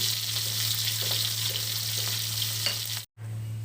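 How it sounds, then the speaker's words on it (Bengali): Pabda fish frying lightly in a pan gives a steady close sizzle over a low hum, with faint stirring taps, broken by a brief cut near the end. "মাছগুলো প্রায় হয়ে গেছে, বেশি ভাজা করলে ভালো লাগবে না খেতে, ওই জন্য একটু হালকা ভাজা করা হচ্ছে"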